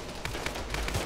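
Distant gunfire during a military-style training mission, several faint sharp reports in quick irregular succession.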